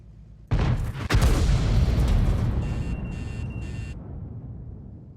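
The biggest tank gun in World of Tanks fires with a deep, booming blast, then a second crack follows, and a long rumbling decay trails off while a few short electronic beeps sound over the fading tail.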